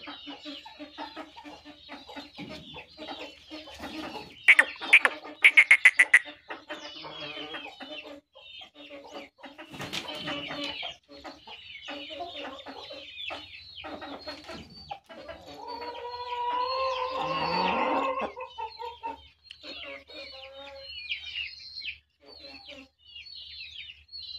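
Parrot-beak breed chickens cluck and murmur continuously nearby, with a few sharper squawks and bursts of calls rising now and then.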